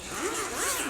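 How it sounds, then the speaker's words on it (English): A zipper is pulled open on a compartment of a DJI RS 2 gimbal carry case, one short, close, raspy burst lasting about a second. "And then you've got two zipper compartments here. So the top compartment"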